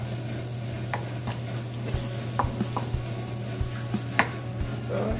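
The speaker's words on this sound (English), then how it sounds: "I now cut it into cubes." A knife cuts an ingredient into cubes for abacha African salad, giving a series of soft, evenly spaced taps on a board, close and fairly quiet over a low steady hum, with no talking.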